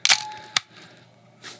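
A Nikon FM film camera's film winder gives a few crisp mechanical clicks close up: a sharp ratcheting burst, a single snap, then a fainter click after a short pause.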